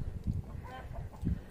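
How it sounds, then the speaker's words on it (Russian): Chickens and chicks clucking in a farmyard, a few soft low clucks and short calls in quick irregular bursts, faint and close. "Там еще у нас курки и цыплятка."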